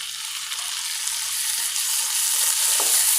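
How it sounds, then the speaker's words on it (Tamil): Tomatoes with onions and curry leaves sauté in a pan for semiya kichadi, producing a loud, continuous close-up sizzle that swells slightly toward the end, with a faint stirring scrape. "நல்லா வதக்கிக்கோங்க தக்காளி ஓரளவு வதங்கினா போதுங்க"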